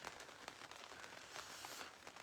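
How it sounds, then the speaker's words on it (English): Light rain falls outside beneath an awning, a steady soft patter of drops with scattered brief taps, faint and continuous with no voices. "It is starting to rain. I am under the awning."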